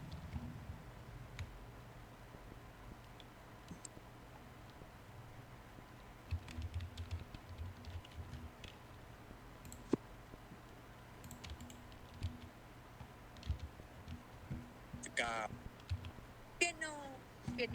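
Soft, quick clicks of typing on a computer keyboard patter on and off, with faint chatter and some louder taps near the end.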